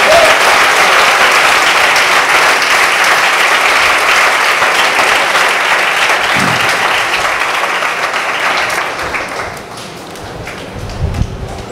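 A church congregation breaks into loud, sustained applause that gradually fades toward the end.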